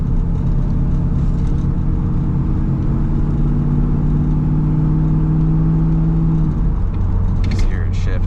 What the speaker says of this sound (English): Just hear it shifting down.